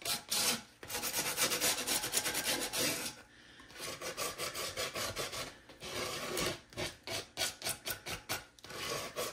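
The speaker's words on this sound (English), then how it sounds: "I'm going to sand the edges to give it some distress" Sanding the edges of a piece of furniture spray-painted black over dark brown, with close, loud rasping strokes that run steady at first, then pause, then come as a quick rhythmic series of back-and-forth scrapes.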